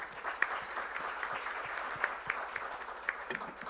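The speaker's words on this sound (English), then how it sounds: "I think we should give them a round of applause" Audience applause at a pension-scheme event, a fairly faint, even patter of many hands from across the room, with a few sharper claps standing out now and then.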